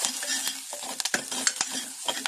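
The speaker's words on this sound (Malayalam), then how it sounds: "വെളുത്തുള്ളി ചെറുതായിട്ട് ചോപ്പ് ചെയ്തത് നൈസായിട്ട് അത് അതിലേക്കിട്ട്" Finely chopped garlic sizzles in hot oil while being stirred for a moringa leaf soup, with crackling bursts and scraping stirs in quick irregular succession.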